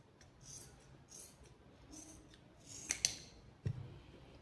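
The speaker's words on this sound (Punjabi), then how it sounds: "ਇਹ ਸੌਕਸ ਨੂੰ ਇੱਥੋਂ ਕੱਟ ਦਾਂਗੇ ਜੀ ਕਿਉਂਕਿ ਇਹ ਜ਼ਿਆਦਾ ਖਰਾਬ ਹੋਈ ਹੈ ਸੌਕਸ" Scissors snip through old, torn and worn-out socks, giving quiet rasping cuts and a few sharper clicks of the blades, faint and close with no talking.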